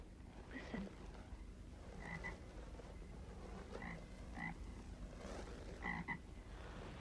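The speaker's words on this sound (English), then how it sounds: "It's just frogs, Susan." Frogs croaking at a lake at night in a 1981 film, a chorus of repeated short croaks scattered over a constant background hum, moderately close and without talk.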